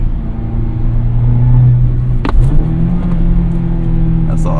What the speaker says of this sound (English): That's all me with the rev match downshift.